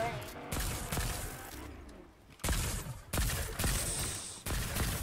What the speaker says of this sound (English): Dude, this gun shoots so straight.